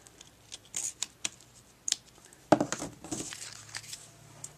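Scissors trimming the tails of a ribbon embellishment on a handmade card, a handful of sharp, quiet snips spaced irregularly, followed by soft rustling and crinkling of paper and ribbon close by.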